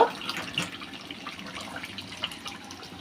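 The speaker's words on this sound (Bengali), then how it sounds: "এখন আমি গরম পানি দিয়ে দেব" Hot water splashes and trickles into a cooking pot of duck meat, with faint dripping and clinking over a low background hum.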